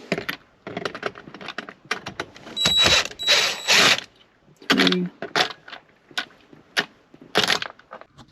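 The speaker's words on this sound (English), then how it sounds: "So I'm going to remove the 3 screws." Metal clicks, taps and scraping from a driver backing out T25 Torx screws from a car interior panel, close and fairly loud, in irregular bursts with small jingling and knocking handling noises.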